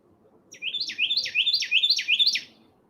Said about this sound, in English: Loud bird.